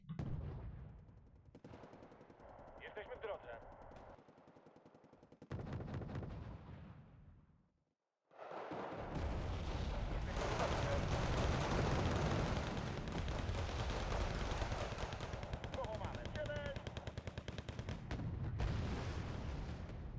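Tank guns and other weapons firing in the Red Dragon real-time strategy game, an Eastern Bloc mechanized 1v1 match, with dense, continuous bursts of gunfire and explosions. A short quiet gap falls near the middle before the loud battle noise resumes.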